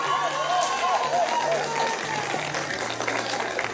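Crowd applause for a mariachi band at an evening show, mixed with the band's lingering music and a held tone beneath; fairly loud, dense clapping and crowd noise throughout, with no clear talk.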